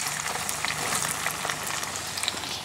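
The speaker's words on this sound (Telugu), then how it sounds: "ఆయిలు, నూనె అయితే కాగింది, ఇందులో ఉల్లిపాయ ముక్కలు వేసుకుంటున్నాను." Chopped onions dropped into hot cooking oil for a chicken liver masala, a steady dense crackling sizzle with small popping spikes, close and continuous throughout.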